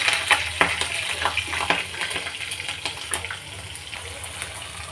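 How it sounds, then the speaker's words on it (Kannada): Cumin, curry leaves and green chillies frying in a pan make a continuous close crackle with brighter spitting pops scattered through it. "ಕರಿಬೇವು, ಹಸಿರು ಮೆಣಸಿನ್ಕಾಯಿ, ಸ್ವಲ್ಪ ಇದು ಫ್ರೈ ಆಗಲಿ."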